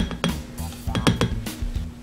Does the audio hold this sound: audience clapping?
no